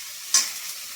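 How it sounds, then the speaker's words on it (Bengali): Cauliflower frying in hot oil, a soft continuous hiss with one sharp crackle burst partway through, close and quiet with no voices. "আমি দুটো ফুলকপি ভেজে তুলে নিই"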